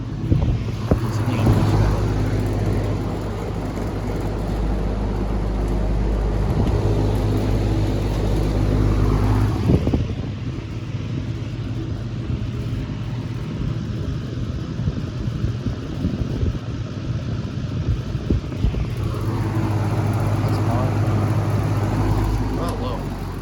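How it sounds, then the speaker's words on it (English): An electric fan runs with a loose grill rattling, giving a loud, steady airy whoosh and rumble with a buzzing rattle on top that shifts slightly in level throughout. "That rattling is the grill right here."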